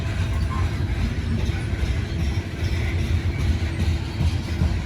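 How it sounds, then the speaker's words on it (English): Freight train locomotives working hard at Cresson, Pennsylvania, a steady loud rumble with low diesel drone and mechanical rattle continuing throughout without pause. "Wow, just listen to those locomotives."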